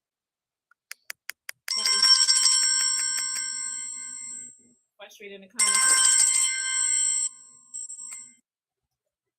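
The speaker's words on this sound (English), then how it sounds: "I can't hear because the phone ringing." An electronic phone ringtone trills in two long bursts after a few quick clicks, with a voice speaking briefly between and under the rings.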